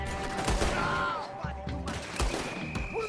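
Gunfire in Red Dead Redemption 2 on PS4, a rapid barrage of shots and bursts crackling over a steady background of game sound and voices, loud and continuous across the whole stretch.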